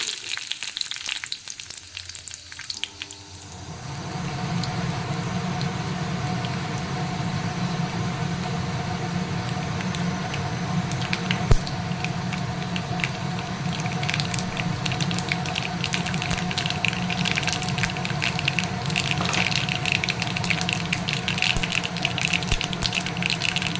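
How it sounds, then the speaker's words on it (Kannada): Mustard seeds, cumin and urad dal dropped into hot oil for a vegetable saagu, a quiet start giving way to a steady close sizzle with faint crackles and pops. "ಇದಕ್ಕೆ ನಾನು ಸ್ವಲ್ಪ ಸಾಸಿವೆ, ಜೀರಿಗೆ ಮತ್ತು ಒಂದು ಸ್ವಲ್ಪ ಉದ್ದಿನಬೇಳೆ ಹಾಕ್ತಾಯಿದ್ದೀನಿ"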